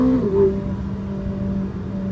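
A Ferrari 849 Testarossa engine drones steadily at close range on Sonoma Raceway, its pitch shifting briefly as the throttle opens, a smooth mechanical whir throughout.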